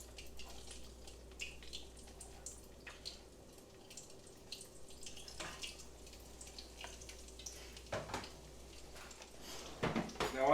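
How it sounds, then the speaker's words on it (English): Hot grease in a pan readied for frying Atlantic croaker fish crackles faintly and steadily with scattered small pops, and a few louder clunks come near the end. "sounds like the grease is good and hot"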